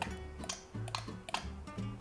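A looped drum beat programmed in FL Studio, with short, tight closed hi-hat ticks between the kick and snare hits in a steady rhythm.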